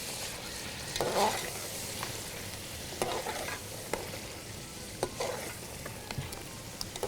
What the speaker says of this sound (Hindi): धनिया डाल के थोड़ी देर भुनाई करनी पड़ती है।